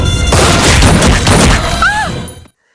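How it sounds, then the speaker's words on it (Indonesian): Gunfire bursts out in an Indian action film, a loud dense volley of shots filling the first two and a half seconds, then cutting off abruptly to silence. "3 orang tersebut berhasil menembak Surya, kemudian menembaki semua penghuni rumah tersebut"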